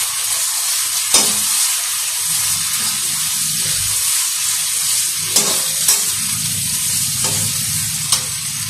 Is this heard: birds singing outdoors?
no